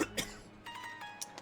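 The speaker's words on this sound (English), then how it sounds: "COVID, post-COVID cough is catching up with me." A person with a lingering post-COVID cough lets out a few short, dry coughs and throat-clearing bursts, close and moderately loud, spaced irregularly against a quiet background with no speech.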